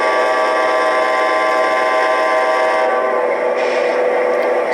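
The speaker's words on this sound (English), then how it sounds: "It sounds really good on these horns," Amtrak P42 Genesis locomotive horn on an Atlas model train sound system, a loud sustained multi-chime blast that holds steady for several seconds, heard alone.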